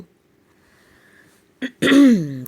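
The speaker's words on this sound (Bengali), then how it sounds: "গলা পরিষ্কার করে" A single short throat clearing after a quiet pause, close and fairly loud, followed by a brief voiced sound.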